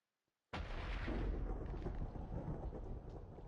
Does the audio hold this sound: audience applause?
no